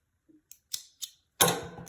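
Scissors snip through crochet yarn, giving a few faint, separate clicks followed by one louder, rasping cut, close up in a quiet room.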